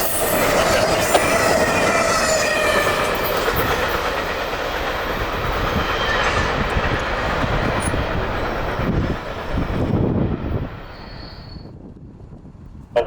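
A CSX I-031 intermodal freight train carrying Tropicana stock and UPS trailers rolls past the signals at Dinsmore Connection, with a loud steady rumble, rhythmic wheel clatter and occasional squeals before it fades away.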